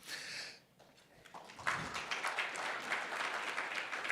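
A brief shout, then scattered clapping builds into moderate applause from an audience, heard at some distance and continuing to the end.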